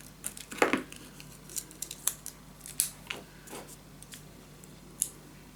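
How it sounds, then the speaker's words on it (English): Paper corners for a scrapbook suitcase mini album are snipped with scissors in a series of crisp, close cuts spaced irregularly, with a few quieter rustles between. "we are gonna cut down a little bit the corners"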